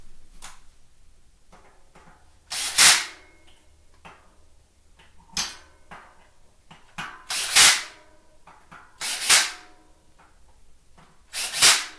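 A Porter Cable drill's clutch ratchets at its torque setting in several sharp bursts of clicking, each a quick rattling snap, spaced irregularly with quiet gaps between, close and fairly loud.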